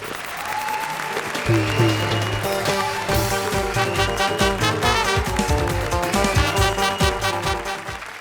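Loud, sustained clapping from a comedy show studio audience mixed with stage music and scattered cheering, continuing steadily throughout.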